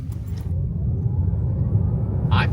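A Tesla Model Y electric car drives along with a steady low rumble of road and motor noise, a faint whine sitting underneath and a brief higher hiss near the end.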